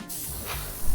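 An airbrush hisses as paint is sprayed onto the underside of a 1/32 Hasegawa Spitfire Mk 5b model. A short, close, steady spray is heard, with a brief rise in force near the end.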